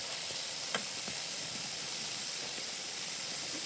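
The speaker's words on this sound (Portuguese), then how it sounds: "Coloque o fígado para fritar em uma panela com óleo bem quente." Liver frying in very hot oil in a pan gives a steady, dense sizzle and hiss that stays constant throughout, with a few faint pops and no voices.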